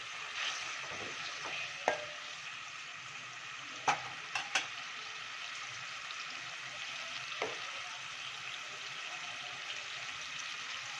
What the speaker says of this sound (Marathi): अशा पद्धतीने उकळी आल्या पाहिजे आपल्या फोडणीला